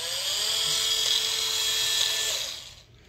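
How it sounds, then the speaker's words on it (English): A small SPTA mini cordless rotary polisher runs steadily with a high, whining motor hum close by, then spins down and stops near the end, with no voices over it. "just to show you real quick, and then boom, you got a little rotary polisher"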